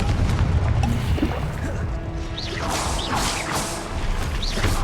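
Fiery Confringo blasting-spell explosions in the Hogwarts Legacy video game, a dense run of booming crashes and whooshing bursts that stay loud and close throughout.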